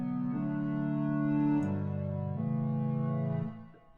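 A wide, ambient synth pad from the LZ White Pad preset in Massive X sustains a soft chord, shifts through a few held chord changes, then fades out at the end.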